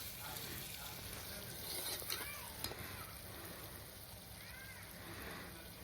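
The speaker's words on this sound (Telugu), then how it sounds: "బాగా కలుపుకోవాలి." Mutton pieces stirred with tomatoes in a pan, a steady sizzle with soft scraping and faint splashy movement throughout, under light background noise.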